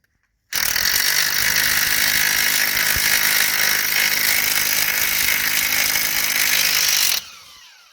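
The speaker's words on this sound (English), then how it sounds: "we need to take off this nut here. That is the 18mm nut." Ratchet wrench or power ratchet removing an 18mm nut from the front strut clamp of a Seat Altea, a loud continuous rapid ratcheting whir for about seven seconds that then stops abruptly.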